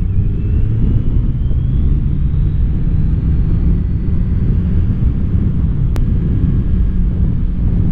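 A bus drives close behind on a winding mountain road in Val Chisone, Italy, a constant loud engine and road rumble with wind buffeting, steady throughout with no voices.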